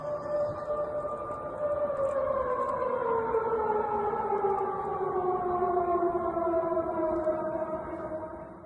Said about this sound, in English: That's the end of the air raid siren